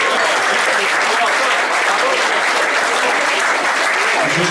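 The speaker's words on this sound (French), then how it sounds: "Je vous demande de les applaudir." Audience at a golf club association gathering applauds, a dense, steady burst of clapping that stays loud and even throughout with no talk over it.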